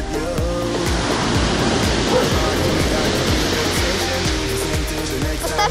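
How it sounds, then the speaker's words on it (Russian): Choppy sea waves splash and wash onto the shore in a steady, loud, full rush of surf, with low rhythmic thumps from the water. "Кстати, море очень волнистое. Вон, смотрите, как оно плещется."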